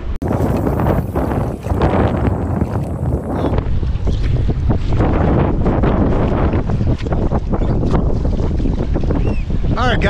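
Strong, loud wind roars across open water during canoe fishing, with constant microphone buffeting and the wash of waves around the boat.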